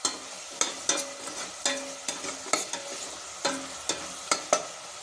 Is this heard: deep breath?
no